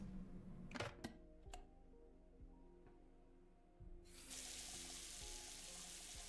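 Tap water in the video game MiSide gushes into a sink after a few clicks and clunks, starting partway through as a loud, steady, close hiss of running water.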